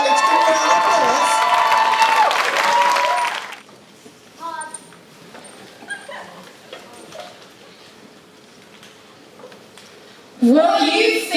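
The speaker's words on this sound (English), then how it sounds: "Give a round of applause." An audience greets the Holy Family team with a loud swell of cheering and applause that stops abruptly, then a quiet room with scattered noises, and another burst of excited shouting at the end.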